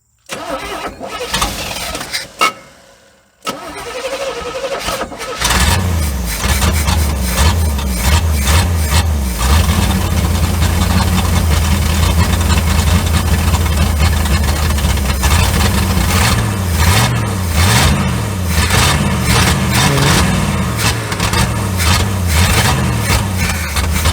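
A 1972 Chevrolet C30 truck, abandoned on a farm for 15 years, cranks and starts after a short pause, then settles into a loud, rough idle with the revs rising and falling unevenly.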